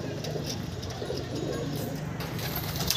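A restless pigeon coos in a loft, low soft calls blending into a busy background with faint voices nearby.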